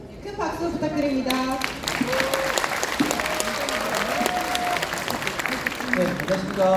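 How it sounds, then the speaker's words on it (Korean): Seminar audience applauding a speaker at a university lecture, sustained clapping from a crowd layered under tonal music and some voices, steady and fairly loud throughout. "큰 박수 부탁드립니다."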